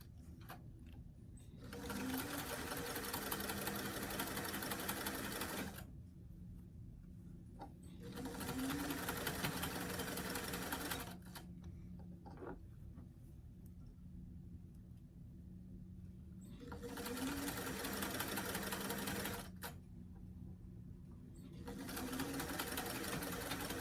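A sewing machine runs a straight top-stitch seam on a small doll T-shirt at a stitch length of about 3 to 4, in several steady whirring bursts of a few seconds each, separated by short pauses.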